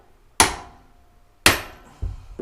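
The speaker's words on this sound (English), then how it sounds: "we broke the fucking tap off just by hitting the thing with a fucking hammer" A hammer strikes a tap set in a 3/8 bolt hole, with two sharp, loud metallic blows about a second apart and a duller third hit at the end, all up close with no talking.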